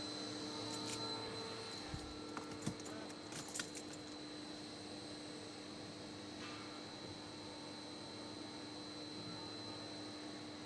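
Keys jingle faintly in a few short bursts during the first four seconds, under a steady mechanical hum and air noise in a workshop where a Mercedes W211 320cdi is having its injector repaired.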